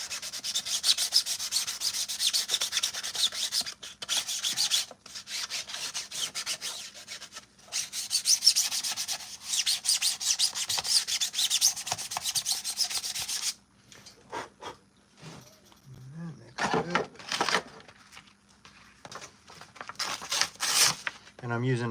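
Sanding a Mandalorian armor piece by hand with 220 grit sandpaper, a steady close scratchy rubbing in long strokes that breaks into shorter rasps toward the end, with some talk.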